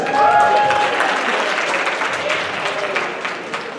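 An audience at a school assembly gives a loud, sustained round of applause as a student comes up to the front, gradually easing off toward the end.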